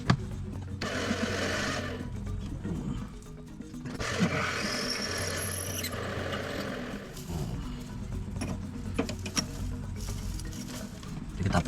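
A lathe whirs steadily with a continuous grinding, metallic rattle as a drill bores a large hole into a metal plenum connector part, the noise surging and easing slightly throughout.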